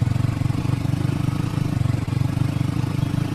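Motorbike engine in a Roblox bike-driving game, a loud, steady near drone with a fast, even pulsing throb and no break.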